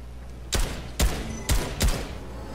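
Four evenly spaced gunshots in a video game, each a punchy thud about half a second apart over a low steady background hum, with no talking.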